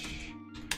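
Brief clatter of keys on a computer keyboard, a few close, quick clicks ending in one sharper tap, with no voice over it.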